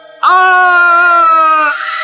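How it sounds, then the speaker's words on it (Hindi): A man lets out a loud, sustained scream in a Hindi horror story about a haunted money tree, a single close, tonal cry lasting about a second and a half before trailing into a rougher breathy tail. "तभी हीरा के चीखने की आवाज आती है"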